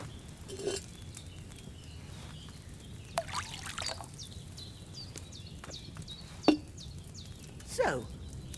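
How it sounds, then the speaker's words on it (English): Wine poured into a cauldron in a medieval role-playing game, a soft liquid trickle with a few faint splashes and clinks over a quiet background. "Don't worry, I poured wine in there."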